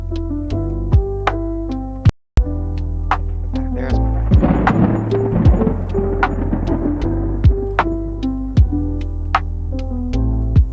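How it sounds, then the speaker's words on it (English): Thunder and rain ambience mixed with soft sustained ambient music, a deep rolling rumble swelling in the middle over a steady wash of rain, with a brief dropout near the start. "I have my thunder and lightning, my rain"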